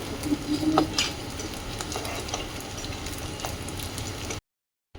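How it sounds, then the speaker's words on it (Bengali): Food sizzles loudly in hot frying oil while pieces are stirred and lifted out, a steady close hiss with light utensil clinks, ending abruptly in silence. "ভালো করে ভেজে নিয়েছি আর ঠিক এরকম হয়েছে ভাজা এখন এগুলো তুলে নিচ্ছি আমি"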